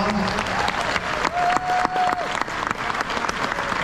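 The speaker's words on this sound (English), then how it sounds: "Give those people that put together those rides a big round of applause." A crowd at the closing ceremony of a rendezvous gathering gives a big round of applause, dense continuous clapping with a brief whistle or whoop rising over it midway.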